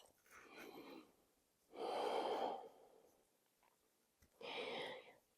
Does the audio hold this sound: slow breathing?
yes